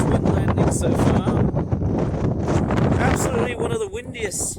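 Strong wind buffets an outdoor microphone beside an airport runway, a loud continuous roar and rumble throughout with faint aircraft noise mixed in.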